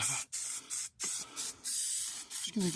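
Black stone guard aerosol sprayed close up onto the battery clamp plate of a DAF LF horsebox, in a run of short hissing bursts with brief gaps between them.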